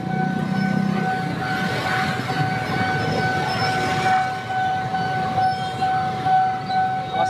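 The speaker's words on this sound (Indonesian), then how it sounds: "Keretanya masih berhenti." A train halted at a railway crossing gives off a steady low rumble with sustained tonal whines and hums, continuous and moderately loud with slight swells.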